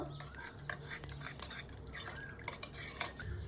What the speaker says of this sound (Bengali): এর মধ্যে কর্নফ্লাওয়ার দেব, এর মধ্যে জল, এরপর গুলিয়ে নেব